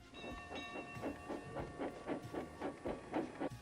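A steam train chuffs in steady rhythmic bursts as it pulls away, with a sustained whistle-like tone and hiss running underneath.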